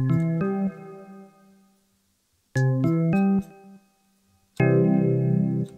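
Three bright FM electric-piano chords ring out one after another, each fading into a lingering reverberant tail with silence between.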